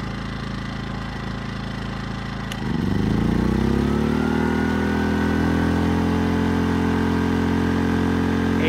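A portable generator engine runs steadily, then, as a 1500-watt load is applied, lugs down and climbs back up with a rising, louder drone that holds at a higher steady pitch.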